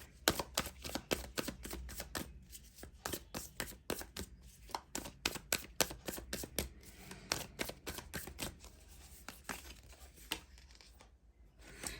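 Tarot cards are shuffled and drawn close by, giving a quiet, rapid run of crisp riffling snaps and soft card flicks that carries on through the whole stretch.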